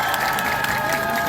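Steady, dense applause from a crowd at an outdoor protest rally against an anti-discrimination bill, welcoming a professor to the stage, with a faint cheer mixed into the continuous clapping.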